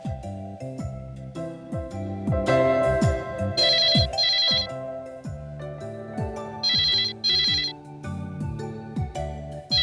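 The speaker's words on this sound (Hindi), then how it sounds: "फोन उठाता ही नहीं है" A telephone rings repeatedly without being answered, its electronic ringtone pulsing in bursts over steady background music in an indoor scene from a crime drama.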